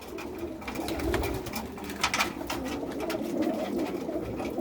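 Young male pigeons coo on a house rooftop, soft, continuous, overlapping calls at moderate distance with a faint background hiss.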